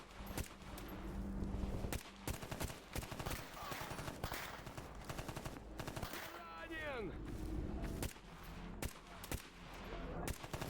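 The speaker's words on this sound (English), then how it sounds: "my shots are not very accurate, honestly, even when I'm just tapping" Gunfire in the S.T.A.L.K.E.R. GAMMA video game, with repeated sharp bursts and tapped single shots cracking through ongoing background game noise across the whole stretch.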